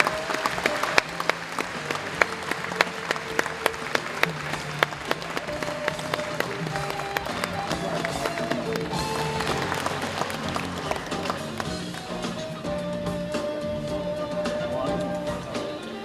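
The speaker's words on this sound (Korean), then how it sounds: "Please give him a big round of applause, everyone." Conference audience at an Asian legal forum applauds the prime minister, a long, moderate wave of clapping that swells early and carries on steadily while sustained musical tones play underneath.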